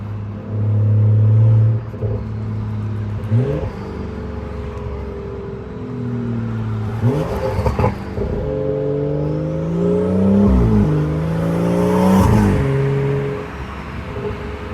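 A Stage 2 tuned BMW 540i with the B58 turbocharged engine and straight-pipe catless exhaust pulls hard at night, revving up through several gear changes with loud rising drones, turbo whoosh and deep rumble, heard from inside the car.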